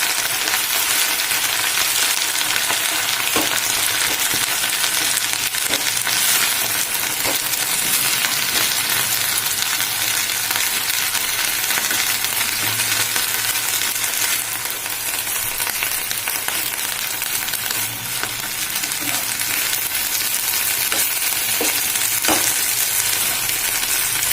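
Steady, close sizzling of fenugreek leaves frying in a little oil, with occasional scrapes and clinks of stirring throughout.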